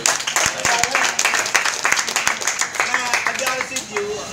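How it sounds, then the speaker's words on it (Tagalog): An audience claps for Joey at a live event, scattered individual hand claps building into applause, with voices talking over it. "Pwede ba natin palakpan si Joey?"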